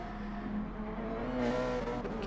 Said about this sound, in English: Just hear that Cayman.